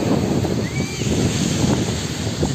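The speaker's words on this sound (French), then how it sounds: "il y a un peu de vent" Gusty wind buffets the microphone in a constant low roar on a beach in Spain, with faint surf and a distant bird call in the background.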